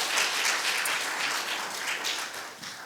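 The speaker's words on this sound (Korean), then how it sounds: "우리 큰 박수로 축하했으면 좋겠습니다" A church congregation in Seattle applauds warmly, a dense, continuous clapping that fills the room without pause.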